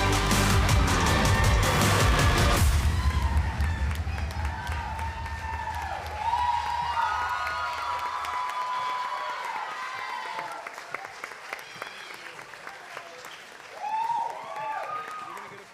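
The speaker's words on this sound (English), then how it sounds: "You can keep clapping for him." An audience at a business competition awards ceremony claps and cheers, loud at first over music that cuts out, then softer continuing applause with people talking and occasional whoops.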